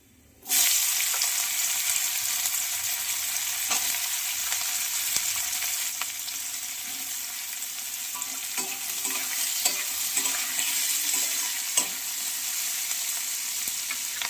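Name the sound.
cardamom, cinnamon and bay leaf frying in oil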